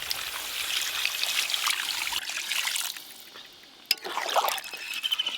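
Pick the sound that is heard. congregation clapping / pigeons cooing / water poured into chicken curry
water poured into chicken curry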